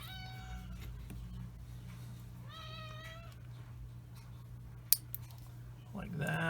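A pet cat, a female, meows several times in a drawn-out, wavering call against a steady low hum. A short click follows, then a rising rustle near the end.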